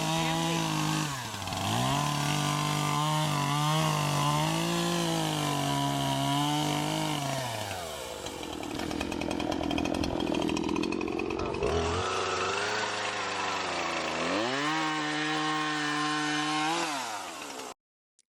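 Chainsaw cutting through hurricane debris during storm cleanup, engine revving and bogging loudly and continuously through repeated cuts, with pitch dropping under load and rising again between passes.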